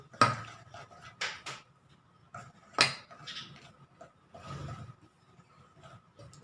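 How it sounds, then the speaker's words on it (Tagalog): Flour and melted margarine stirred in a mixing bowl, producing a series of irregular scraping clatters and knocks of a utensil against the bowl, close and fairly quiet, with short pauses between strokes. "Haluin lang po natin sila."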